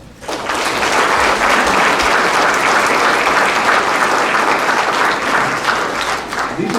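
Loud, sustained applause and clapping from an audience at a 2019 sixth-grade elementary school graduation ceremony, starting abruptly and holding steady for several seconds with a few faint voices mixed in.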